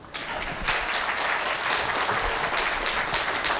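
An audience at a fire safety education science demonstration claps steadily throughout, a dense, even wash of applause with no voices over it.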